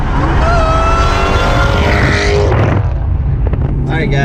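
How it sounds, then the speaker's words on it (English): A Mustang with an Eaton supercharged 2-valve engine is driven close by, its loud engine note rising and falling with gear changes over wind rumble, and people talk under the sound. "now I'm gonna drive the car for a little bit"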